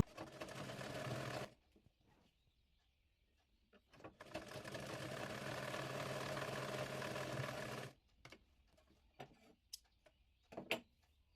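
A sewing machine stitches elastic into a baby girl's frilled half pants, two steady whirring runs with a longer second burst, followed by sparse clicks and handling noises in a quiet room.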